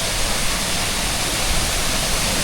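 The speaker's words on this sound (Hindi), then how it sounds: "और ये रही तीसरी वाटरफॉल जो आपको मज़ा आएगा देखने में।" Waterfall near Grahan village in Himachal Pradesh, reached by a mountain trek: a dense, steady roar of falling water, loud and close, with no voices.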